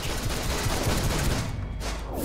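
Rapid gunfire in the video game DC Universe Online, a dense continuous volley of shots at moderate loudness with no pauses.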